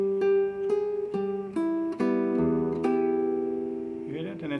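Flamenco-style guitar in a bulerías lesson, with notes picked one after another and left to ring unmuted so they overlap and sustain. The playing is close and clear, and a brief slide or rustle comes at the end.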